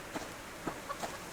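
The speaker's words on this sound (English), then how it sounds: "A chicken." A chicken in the survival video game Subsistence gives a few soft, faint clucks in quick short bursts over a quiet background.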